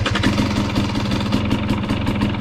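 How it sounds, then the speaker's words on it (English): A 2020 KTM TPI two-stroke motorcycle engine running steadily at low throttle, a loud, close, continuous buzzing drone with a fast pulsing beat and no voices over it. "I'm gonna fire it up, just cruise around and listen to it at like the low throttle response"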